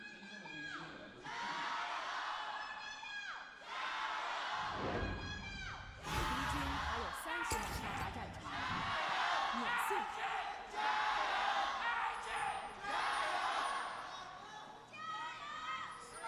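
A League of Legends esports arena crowd cheers and shouts in waves at an LPL third-place match, with a commentator's voice talking over the noise throughout.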